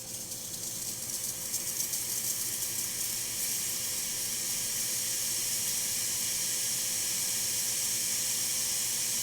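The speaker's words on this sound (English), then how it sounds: "And the steamer." Steam wand on a Breville Oracle espresso machine, freshly serviced with a new boiler, releasing a continuous loud hiss that builds slightly and then holds steady, close up, with no talk.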